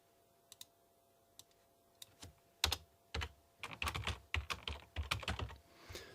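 Quiet keystrokes on a computer keyboard as an instance name is typed, a few isolated taps at first, then a denser run of close clicky typing.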